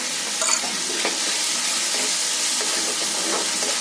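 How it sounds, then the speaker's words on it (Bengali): Ground tomato and green chilli paste hitting hot oil in a pan, a loud, steady hissing sizzle close by with light stirring scrapes, no voices. "এবার দিয়ে দেবো এর মধ্যে টমেটো আর কাঁচা লঙ্কা একসঙ্গে বেটে নেওয়া"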